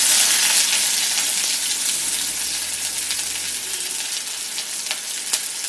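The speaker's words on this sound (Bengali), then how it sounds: "এবারে দিয়ে দিচ্ছি আমি তেলের মধ্যে একটা বড় সাইজের পেঁয়াজ কুচানো" Chopped onion frying in mustard oil in a kadai gives a steady, bright sizzle that is close and fairly loud, with faint crackles and a few small clinks, and no voices.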